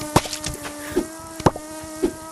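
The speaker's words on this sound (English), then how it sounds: "This one's empty because the wasp, it's very noisy." A wasp in the VR game Yeeps buzzes steadily with a tonal hum, while sharp clicks and taps pop up at irregular intervals over it.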